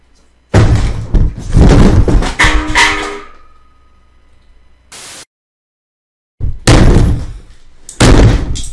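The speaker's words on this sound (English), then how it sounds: "the way he punches his desk in this clip literally sounds like one of those Call of Duty shotgun sounds" A fist pounding a desk in two loud bursts of heavy thuds and knocks, close and harsh, separated by a short silence with a brief static click.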